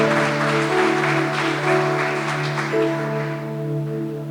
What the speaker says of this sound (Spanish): Vamos, denle un aplauso al Rey si usted está convencido de eso.